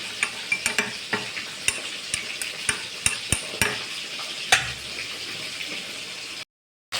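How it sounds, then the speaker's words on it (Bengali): Spice paste mixed with a little water for a fish curry is stirred in a pan with a spoon, giving repeated wet clacks and scrapes over a soft background hiss, then a moment of silence. "মশলার মধ্যে একটু জল দিয়ে দিয়েছি, এবার এটাকে আমি একটু গুলে নিচ্ছি।"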